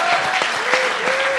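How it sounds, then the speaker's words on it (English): An audience at a 2019 panel discussion breaks into a round of applause, dense steady clapping filling the room, with a faint tonal whine in the background. "Let's give them a huge round of applause."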